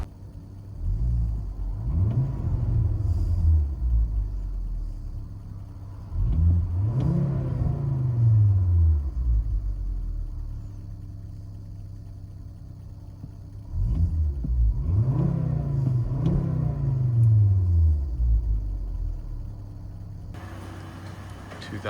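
Three long, deep revs rise and fall from a 2011 Volvo C30 with a Borla crossflow muffler, heard from inside the cabin. Between them a steady idle rumble holds under the muffled boom, with no talking.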